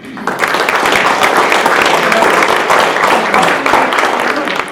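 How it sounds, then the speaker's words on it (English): An audience at a community business forum breaks into steady, sustained applause, dense clapping filling the room for several seconds. "So let's give them a round of applause."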